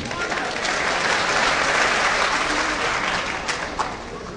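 An audience at a poetry recital in an auditorium in Lucknow gives a loud, dense round of applause that holds steady and tapers slightly at the end.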